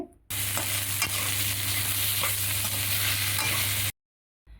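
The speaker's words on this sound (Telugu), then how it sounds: "సాల్ట్ వేసిన తర్వాత మరోసారి బాగా కలుపుకోవాలండి" Egg and taro curry is stirred in a pan after salt is added, making a loud close sizzle with repeated spatula scrapes for a few seconds before it cuts to silence.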